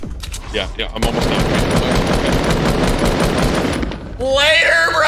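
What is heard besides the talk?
gunfire shooting at the cube in a video game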